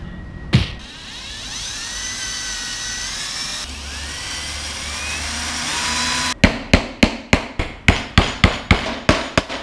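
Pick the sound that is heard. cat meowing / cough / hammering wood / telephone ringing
hammering wood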